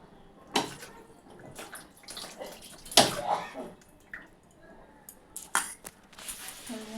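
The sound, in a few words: washing a spoon under running water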